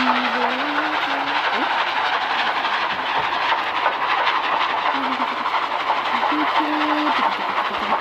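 A train rumbles steadily with a constant droning roar in the Roblox game Dead Rails, no talking, a faint higher tone coming and going.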